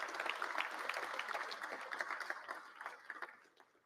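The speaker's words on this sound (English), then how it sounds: "You absolutely deserve to give yourself a round of applause" Legislators in a joint session of a state legislature applaud in a chamber, a broad wash of clapping that gradually fades toward the end.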